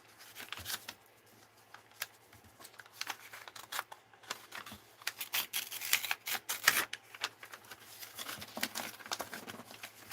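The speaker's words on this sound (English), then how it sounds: "Grab my little scissors." Small scissors snip open a paper envelope up close, giving a run of crisp, irregular cuts and paper crinkles that grow busier midway, with no one talking.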